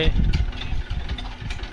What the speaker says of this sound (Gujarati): આપણે ઘોડીમાં જો વાસપાનું એન્જિન લગાડેલું છે